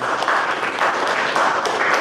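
Steady applause from a crowd at the end of a talk at a game developers' meetup, a dense continuous wash of clapping hands that holds at the same level throughout.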